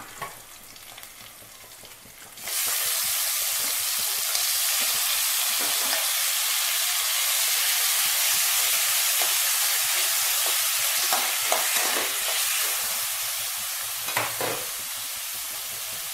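Mutton pieces frying on a tawa with curry leaves and coriander, starting with a sudden loud hiss that becomes a steady, close sizzle and crackle, stirred now and then, with no talking.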